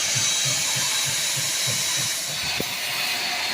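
Line boring bar cutting a welded, slightly porous pin bore on a steel shredder, a steady loud broadband machining hiss with a faint low rhythmic chatter pulsing underneath and one brief knock near the end.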